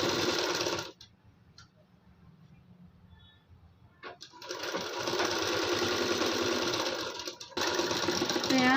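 Sewing machine stitching a blouse sleeve into the armhole with a half-inch seam, running in a loud, close, steady whir, then pausing almost silent for a few seconds before resuming with another long continuous run.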